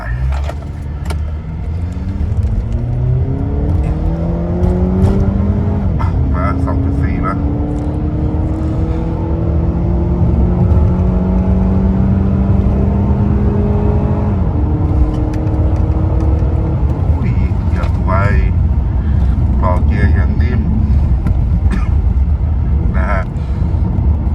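A ninth-generation Honda Accord 2.4 in drive on a test run accelerates hard, its engine note climbing through several rising gear sweeps with shifts between them, heard from inside the cabin with someone talking over it.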